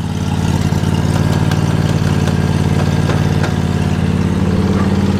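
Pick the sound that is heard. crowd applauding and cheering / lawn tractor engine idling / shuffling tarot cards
lawn tractor engine idling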